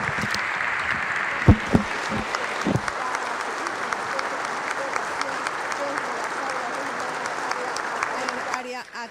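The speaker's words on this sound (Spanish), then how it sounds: "en estos momentos recibe el aplauso de todas y todos los asistentes" Attendees at a formal farewell and honour ceremony for a judge and academic give sustained, even applause from a crowd, with a few louder claps early on and a voice speaking over it.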